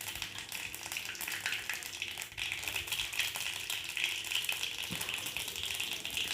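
Mustard seeds and cumin crackle and sputter in hot oil, a steady bright hiss dotted with quick pops, close by and continuous with no talk.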